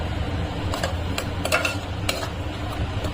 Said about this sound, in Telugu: కొంచెం కర్రీ తీసేసి ఇప్పుడు ఇందులో ఎండు చేపలు వేస్తాను